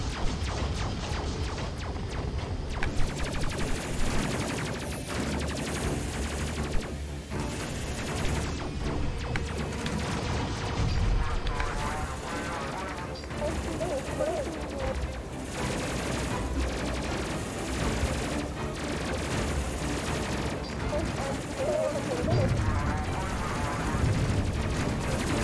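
Rapid, sustained focus-fire weapon shooting in the Space Crew space combat game, a dense barrage of gunfire and impacts running continuously for the whole stretch, loud and steady with no clear pauses.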